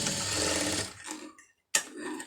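A sewing machine stitches the side seam of a blouse in a steady, fast run that stops abruptly, leaving a brief silence before a short burst of handling and a click.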